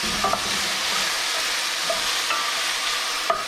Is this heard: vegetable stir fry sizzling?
yes